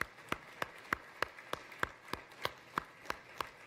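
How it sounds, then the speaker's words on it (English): A round of applause for Catherine at the New York auto show launch of the 2019 Acura RDX; faint, evenly spaced single claps, about a dozen in steady rhythm, distant and sparse rather than a full crowd. "give a big round of applause, Catherine"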